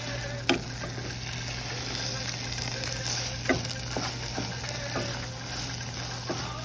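Beetroot halwa sizzles and fries steadily in a pan, with a spoon scraping and clinking now and then as it is stirred. The sound is close and continuous over a low hum.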